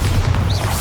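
Bombarda blasting spell exploding in the video game Hogwarts Legacy, a loud, sustained rumbling boom with heavy low-end roar filling the whole moment.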